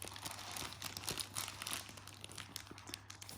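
A triangular bandage in its package crinkles and rustles as it is handled, quiet and close, with irregular soft crackles and small crunches and no talking.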